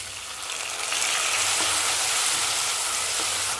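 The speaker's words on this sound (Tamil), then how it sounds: "தக்காளி வெங்காயம் வதக்கிறதுக்காக கல்லுப்பு சேர்த்துருக்கேன். தக்காளி வெங்காயம் நல்லா வதங்கி வரட்டும்." Chopped onions and tomatoes fry with rock salt in a pan for sambar, giving a steady, fairly loud, broad hissing sizzle that swells slightly after the first second and continues without talk.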